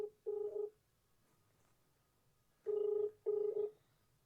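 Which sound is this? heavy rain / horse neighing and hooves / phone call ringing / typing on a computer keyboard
phone call ringing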